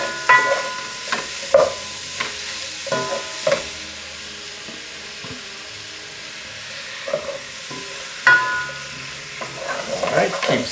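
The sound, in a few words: seasoned shrimp sizzling as added to curry pot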